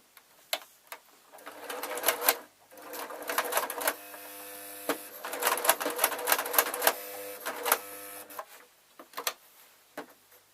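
A sewing machine stitches a rag doll in stop-start bursts, running for a few seconds at a time with short pauses between runs. The close, busy mechanical whirring comes through with no talking.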